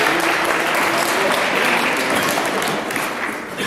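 Applause for a group at a Latvian workshop session on agriculture ideas, steady dense clapping filling the room for several seconds, tapering slightly near the end.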